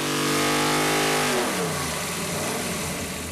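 A 572 cubic inch engine burning 110 octane race fuel roars loudly through a dyno pull, its steady high drone climbing then breaking into a rough, heavy rumble as the run continues.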